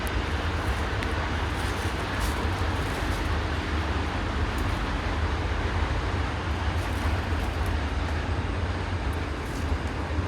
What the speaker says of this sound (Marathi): ट्रेन चालली आहे, त्याचा आवाज येतोय